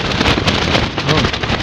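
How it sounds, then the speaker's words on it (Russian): Very strong wind gusting across open ice during winter fishing, heard as a loud, dense buffeting roar against the microphone with no speech. "Очень сильный ветер."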